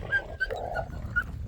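A dog whimpers in short, high, nasal yips and whines close by while trying to jump up on a person outdoors on a farm, with several brief cries over a low background rumble.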